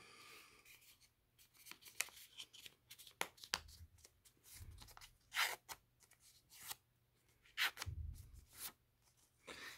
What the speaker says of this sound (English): The first thing I need to do is fold this paper circle in half.